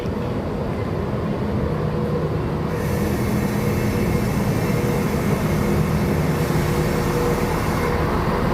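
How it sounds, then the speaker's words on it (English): A Southern Service train heading to Ashford International pulls into a station in Hastings, producing a steady, loud rumble of wheels and motors close by with a brief hiss partway through, and no voices. "And here comes our train."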